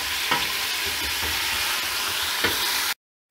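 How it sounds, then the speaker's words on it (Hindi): Steady sizzling and frying of meat in a pot for aloo gosht, with occasional stirring scrapes, a continuous crackle that cuts off abruptly near the end. "अब मैंने गोश्त इसमें डाल दिया"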